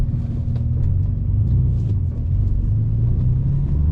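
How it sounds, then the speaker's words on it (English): A 1998 Porsche 993 Carrera S, a 25-year-old air-cooled flat-six, drones steadily while driving, a continuous low rumble heard from inside the cabin with no talk. "This car is a vintage Porsche."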